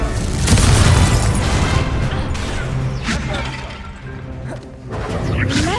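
Incendio fire spell during a Hogwarts Legacy Merlin's Trials combat sequence, heavy crashing, booming blasts and roaring fire layered with smashing debris, several loud hits spread across the stretch, with brief voice fragments mixed in.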